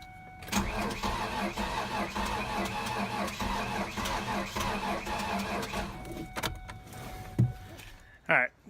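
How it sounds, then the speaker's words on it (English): A Ford Ranger with a suspected fuel pump fault cranks on starting fluid, a steady loud engine roar running several seconds before cutting off, followed by a couple of sharp knocks and a short burst near the end. "This here Ranger will fire on starting fluid."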